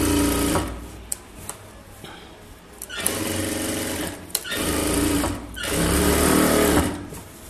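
A sewing machine stitches a chudithar top in bursts of rapid whirring needle runs separated by short pauses and clicks, close and loud.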